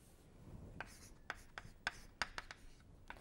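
Writing an equation on a board: irregular short scratchy strokes and taps, close and fairly quiet, with pauses between marks and no talking.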